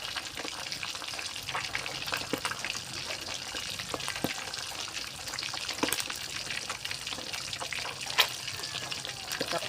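Mackerel frying in hot oil, a continuous close crackling sizzle with scattered pops and spits throughout.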